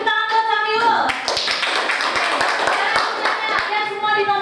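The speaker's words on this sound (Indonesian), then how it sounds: "kasih tepuk tangan buat Samuel" A classroom of students claps for a classmate named Samuel, a dense burst of hand claps starting after a second and holding steady at close range, with voices and a tonal sound before and after.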